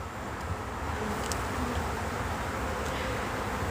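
Honeybees being shaken off a hive frame during autumn hive work, a dense, close swarm buzz with a few individual bees whining past, steady and loud.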